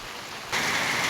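Rain falls in a steady hiss that suddenly grows heavier and louder partway through, with a dense spatter as though it is drumming on a surface close by.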